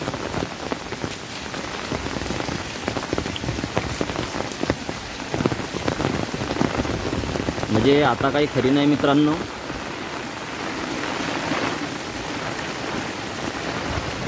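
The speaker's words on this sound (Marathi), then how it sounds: "हा बघा पुरा ओव्हरफ्लो इकडे पाणी वाहत आहे." Continuous rushing of floodwater pouring over a cement road, steady and close, with someone talking over it for most of the stretch.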